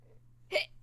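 A single short, sharp hiccup, fairly quiet, standing alone against a soft steady hum with nothing else around it.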